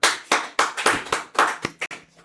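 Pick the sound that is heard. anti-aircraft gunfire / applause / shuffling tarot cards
applause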